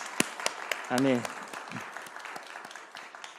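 A church congregation at a Sunday worship service claps in scattered, sparse hand claps that stay moderately quiet, while one voice briefly calls out a single word partway through.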